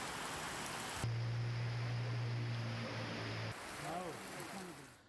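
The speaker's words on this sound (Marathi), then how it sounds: "नंदुरबारच्या अक्कलकुवामध्ये मुसळधार पाऊस झालाय" Heavy monsoon rain pouring down in Akkalkuwa, Nandurbar, a dense steady hiss of downpour throughout, with a low droning hum joining for a few seconds in the middle.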